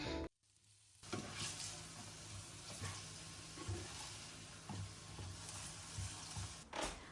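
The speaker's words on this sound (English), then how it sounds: "We're double frying our fries today, so I gave them their first fry" Steady, dense sizzling and crackling of potato fries frying in hot oil, close up, with occasional bubbling bursts and a brief quiet start.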